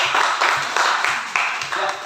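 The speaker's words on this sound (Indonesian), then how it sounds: "silakan tepuk tangan" Classroom of students clapping in a steady rhythmic pattern of repeated bursts, a group clap close by and fairly loud, with no talk over it.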